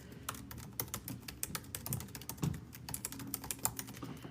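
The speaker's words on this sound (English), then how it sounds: "I'll tell you what I'm typing in as I type it." Steady typing on a computer keyboard, a rapid irregular patter of close, crisp key clicks running throughout with no voices.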